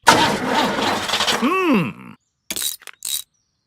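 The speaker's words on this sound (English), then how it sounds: "Try the engine." A cartoon car engine strains through a long sputtering, grinding attempt to start, then a wobbling whine cuts off, followed after a pause by two short rattling bursts, close and loud with no talk over it.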